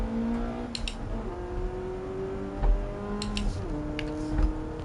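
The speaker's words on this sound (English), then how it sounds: "The engine sounds good for the stock." A steady stock car engine in Gran Turismo 7 hums and shifts pitch as it changes gears, with occasional light clicks over the continuous drone.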